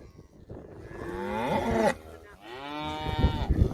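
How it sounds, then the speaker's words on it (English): A calf on a cattle ranch gives two long, loud moos close by, the second rising and drawn out, with faint background noise between. "here's a calf. Nice calf, but it's going to have to go."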